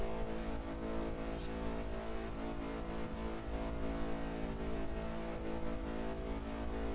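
Car engine in the driving game Test Drive Unlimited 2, a steady sustained drone at moderate level with faint high ticks and clicks, and no voices present.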